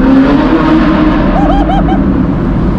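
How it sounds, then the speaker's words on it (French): A Ferrari with a tuned engine and modified exhaust, rated at 600 horsepower, revs loudly and continuously up close, a dense, rough roar that holds its level with a brief rising sweep partway through. "Là elle a 600 chevaux cette voiture, mais 600 chevaux qui font beaucoup de bruit."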